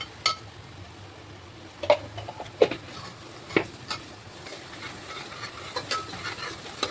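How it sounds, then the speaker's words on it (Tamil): Masala and pepper powder sautéing in oil for a home-style chicken gravy, a quiet steady sizzle broken by a few sharp scrapes and knocks of a spoon stirring in the pan, close by with no talking. "வெறும் மசாலா மிளகுத்தூள் கொஞ்சம் போட்டு எண்ணெயில் வதக்கிக்கலாம்."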